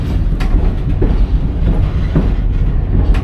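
A Reading & Northern passenger train running on rails close by, a loud continuous rumble with rhythmic wheel clicks over rail joints and no voices.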